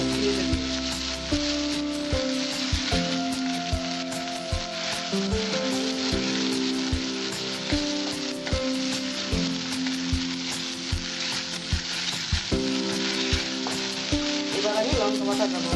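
Small onions sizzle steadily in hot oil in a pan for a Bengali-style egg masala curry, with a continuous close frying hiss and scattered clinks and scrapes of a spoon stirring.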